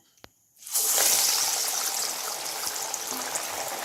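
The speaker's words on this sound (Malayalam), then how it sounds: "നമ്മുടെ എണ്ണ ചൂടായി. നമുക്കിതിലേക്ക് വട പരത്തിയിടാം." Parippu vada (lentil fritters) are dropped into hot oil after a soft tap, setting off a sudden loud, hissing sizzle that settles into a steady bubbling crackle.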